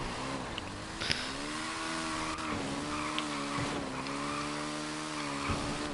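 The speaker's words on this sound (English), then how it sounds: "I just had a head-on collision with a car" Racing engines whine and rise in pitch with brief tire squeals and a couple of sharp knocks during a head-on car collision in the PS5 rally raid game WORC: Rally Raid², steady game-like car noise with no talking.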